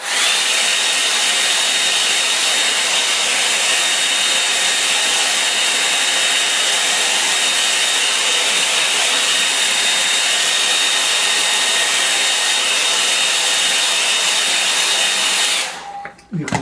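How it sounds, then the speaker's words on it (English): A hairdryer blows steadily over a wet watercolour painting of a Norfolk village sky. Its loud, constant whooshing drone runs close and uninterrupted until it cuts off abruptly at the end. "I'll give that a bit of a help now with the hairdryer"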